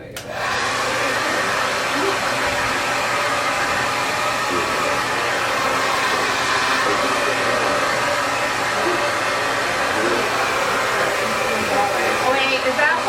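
A hair dryer blows steadily and loudly through the whole stretch while a pixie cut is being dried, with a constant close whooshing roar that only shifts slightly as it moves.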